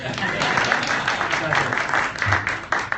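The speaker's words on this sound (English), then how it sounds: "what, no applause?" Audience applause at the launch of WTTZ 93.5 FM, the Maryland Transportation Channel radio station, heard as steady clapping from a modest crowd, with voices talking over it.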